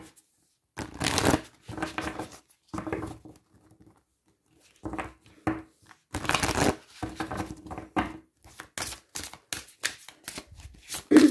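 Oracle cards are shuffled for a card reading in bursts of crisp riffling and flapping, several separate rounds broken by short silences, close and clear.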